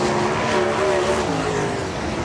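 Sprint cars race on the dirt track at Terre Haute, several loud engines roaring together with wavering, overlapping pitches as they pass through a turn.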